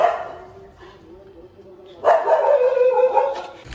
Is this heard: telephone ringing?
no